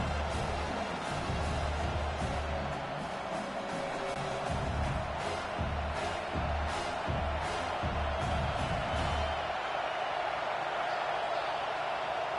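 Stadium crowd noise from a College Football 26 game, Alabama versus South Carolina, a steady dense roar rising to cheers and then easing off toward the end, heard alone without talk.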